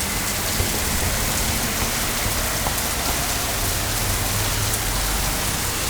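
Heavy rain drums down without pause, a thick, loud hiss of countless drops striking surfaces nearby, with no speech.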